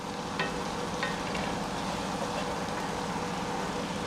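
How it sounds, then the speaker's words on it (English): Potatoes, onions and vegetables fry in bacon grease for a venison hash. A dense, steady sizzle fills the pan while a few light scrapes of stirring come through, close and continuous. "Got all my vegetables in here. I'm gonna give us a bit of a stir."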